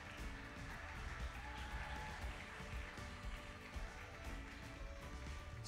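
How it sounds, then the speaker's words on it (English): Audience applause rings through a bodybuilding competition hall as two competitors come out at an OCB Pro/Am prejudging, steady faint clapping heard from a distance, with an announcer talking over it. "Come on, guys, clap it up louder than that."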